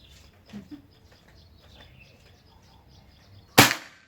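A single sharp, loud PCP air rifle crack near the end, after a few quiet seconds with faint bird chirps in the background.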